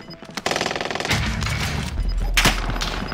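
Rapid automatic gunfire in a first-person shooter: a burst of dense, rhythmic shots that starts after a short lead-in and carries on loud and continuous with heavy low booms underneath.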